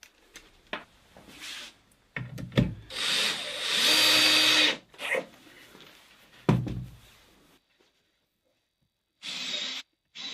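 SPAX screws are driven into a small wooden cabinet with a power drill, giving short whirring bursts and one longer sustained drive, with knocks and handling noises between and a quiet stretch near the end.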